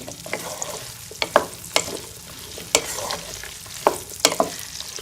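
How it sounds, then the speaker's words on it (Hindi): Okra frying in a pan, a steady close sizzle broken by sharp clacks and scrapes of stirring at irregular intervals, with no voices. "तो अब इनको फ्राई कर लेंगे। भिंडी को फ्राई कर लेंगे 4 से 5 मिनट के लिए।"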